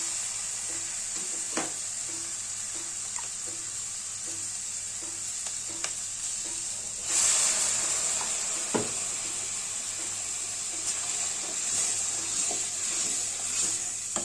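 Capsicum gravy sizzles and fries steadily in a pan, a continuous hiss with small pops and occasional stirring clinks, growing briefly louder midway, with no talking.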